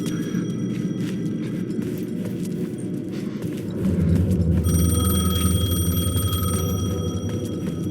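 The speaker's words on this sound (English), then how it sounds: "The payphone was ringing." In Alan Wake 2 a payphone rings with a steady electronic tone over low rumbling ambience, growing more pronounced and sustained midway through, with no voices.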